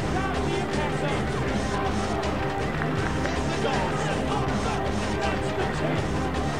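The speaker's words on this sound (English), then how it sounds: "Listen to the crowd of the Impact Zone." A large wrestling crowd in the Impact Zone arena roars continuously, a dense, loud wall of cheering and shouting that holds steady throughout, with commentators talking over it.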